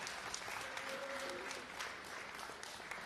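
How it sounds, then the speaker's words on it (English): An audience applauds the winners of a GT500 sim racing event at a sim racing expo. The clapping is steady and moderately distant, with a few voices faintly under it. "And that's again your applause."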